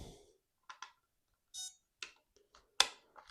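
A retro Grandstand LCD handheld game gives a handful of short, quiet beeps and clicks, spaced irregularly and heard alone in a silent room.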